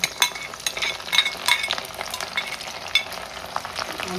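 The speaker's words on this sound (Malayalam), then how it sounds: "കടുക് പൊട്ടിക്കൊണ്ടിരിക്കുകയാണേ" Mustard seeds popping and spluttering in hot oil for a fish pickle, sharp scattered crackles over a low sizzle, with a few scrapes of stirring in between and no voices.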